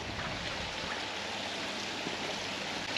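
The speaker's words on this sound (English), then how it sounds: "I can hear water." Steady broadband rush of flowing water from a garden water feature, continuous and fairly close, with no other sounds standing out.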